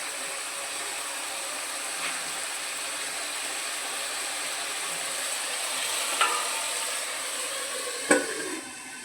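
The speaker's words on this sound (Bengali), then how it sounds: "মাছগুলো দিয়ে উল্টে পাল্টে ভালো করে কষিয়ে নিতে হবে" Pieces of pangas fish are stirred and fried in an onion-garlic spice paste, a low steady sizzle broken by a few sharp spatula scrapes and knocks against the pan, with no voices.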